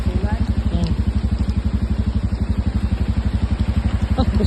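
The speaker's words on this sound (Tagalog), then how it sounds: "Mga bigating ng motor." Heavy motorcycles travelling on a damaged road, their engines thrumming in a steady, rapid pulsing rhythm that carries loud and close throughout.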